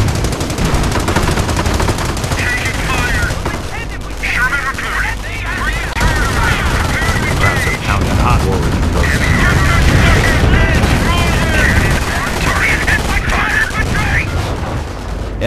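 Gunfire and explosions in Company of Heroes, with continuous machine-gun chatter, rifle shots and booming blasts forming a dense battle din, while in-game voices call out over the fighting.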